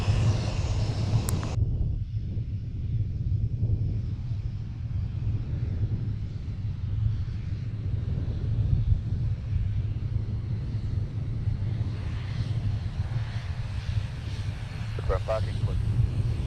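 A Winair ATR 42 turboprop at SXM airport makes a low, steady engine rumble with wind buffeting, while people talk over it throughout.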